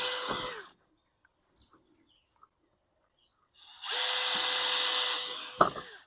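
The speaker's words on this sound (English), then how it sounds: "we're just going to drill some holes" A cordless power drill bores holes into a chick brooder in two short bursts, whirring up loudly and close, with a near-silent pause between them.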